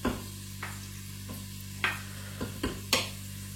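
Onions and carrots frying in a Cookeo multicooker, a quiet steady sizzle with occasional stirring scrapes and clicks spaced a second or so apart.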